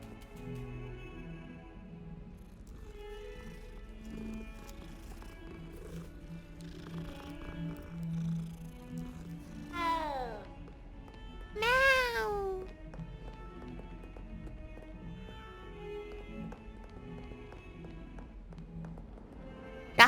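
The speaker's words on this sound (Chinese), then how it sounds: "哇哇哦，又有一只小猫咪。" A cat in the video game Hogwarts Legacy gives a few short meows. The meows are moderately close and rise above quiet game ambience and footsteps.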